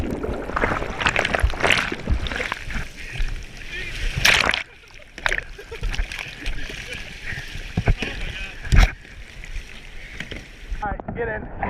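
Paddles dig and splash through ocean water during a surf outing, with repeated sloshing strokes close by and a loud splash burst midway, while voices talk intermittently over the water noise.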